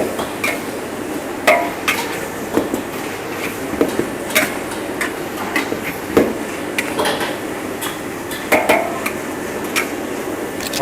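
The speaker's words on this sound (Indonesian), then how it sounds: "Nah ini kita aduk dulu biar si udangnya tercoating dengan margarin yang udah kita tumis dengan bawang-bawangan ya" A utensil stirs shrimp in a pan of margarine with sautéed onions and other alliums, giving repeated loud metallic clanks and scrapes against the pan in an uneven rhythm, close by, over a soft frying hiss.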